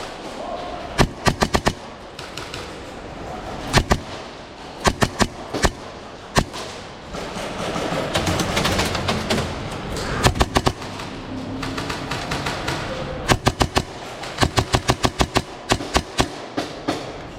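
Airsoft Hi-Capa pistol firing BBs in gameplay, sharp clustered pops in quick bursts and single shots over a noisy outdoor background, with a voice briefly heard.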